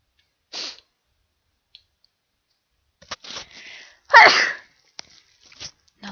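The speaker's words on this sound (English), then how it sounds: "That was a sneeze." A short sneeze bursts out in a quiet room amid a few small clicks and sniffs, with one louder sneezy blast standing out near the middle.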